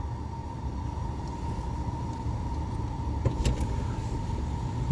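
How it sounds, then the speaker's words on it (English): Traffic of fairgoers leaving in Bakersfield, California, a steady flow of cars rumbling and swishing past under a constant tonal hum, with a louder vehicle passing near the end. "continuing flow of traffic coming from that direction, those are the fairgoers that are leaving"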